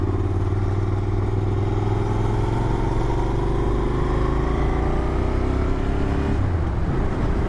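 A Cagiva 650 Raptor motorcycle with a non-original setup runs its engine close by, a steady throbbing rumble whose pitch slowly climbs before dropping sharply near the end as the revs fall, with no talk.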